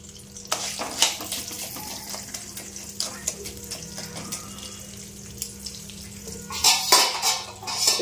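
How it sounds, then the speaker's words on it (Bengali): Popcorn kernels are stirred in a hot pan, with a sizzling hiss under repeated scraping and clattering strokes of the utensil, close and moderately loud, growing busier toward the end. "একটু নেড়ে দিই।"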